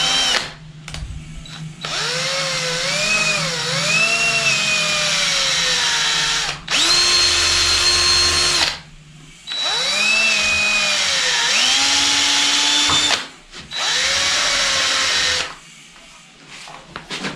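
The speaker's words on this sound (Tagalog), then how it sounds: "Kaya barina na lang gagamitin ko." Power drill boring slowly through a soft, hollow PVC plastic door jamb, its motor whining loud and close in several long bursts with short pauses between them.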